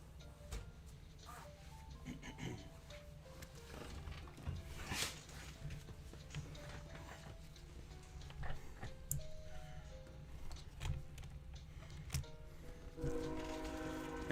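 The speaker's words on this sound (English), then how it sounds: "And there's the train." A train passes nearby, a steady low rumble with a horn sounding through it, heard under background music with tonal notes.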